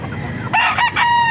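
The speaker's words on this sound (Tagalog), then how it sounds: "Malaking manok oh." A large rooster crows loudly and close by at a chicken market, a short broken call with a rising opening and clear harmonic tones.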